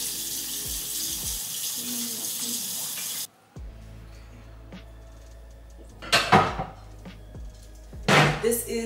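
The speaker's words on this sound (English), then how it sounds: "I'm gonna wash my hands really quickly." Water runs from a kitchen tap as hands are washed, a steady close rush that stops abruptly, followed by quieter movements and a couple of short splashes or clatters near the sink.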